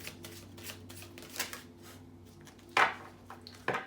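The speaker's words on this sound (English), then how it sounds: "I feel called to get a card for the masculine" An oracle card is pulled from a deck, with soft shuffling rustles, then two sharp papery snaps near the end as the card slips free, close and fairly loud against a quiet room.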